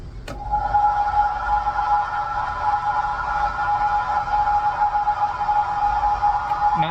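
A Telepathic Instruments Orchid synthesizer plays preset sound 50, a steady sustained airy tone with a soft noisy wash, ghostly and ethereal, holding evenly for seconds with faint clicks at the start and end.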